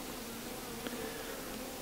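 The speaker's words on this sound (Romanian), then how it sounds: "Văd că umblă albinele pe ea." Honeybees crawl over a hive frame holding honey and bee bread, giving a faint, steady buzzing hum close by, with no voices.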